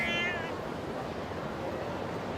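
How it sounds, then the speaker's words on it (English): A cat gives a short, clear meow at the very start, then it falls quiet and only a soft background hum remains. "Fucking cats."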